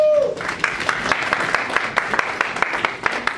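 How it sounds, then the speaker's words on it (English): An audience breaks into a round of applause at a live show, claps ringing out in a loose, steady patter for a few seconds over a brief vocal tail at the start. "Let's give a round of applause"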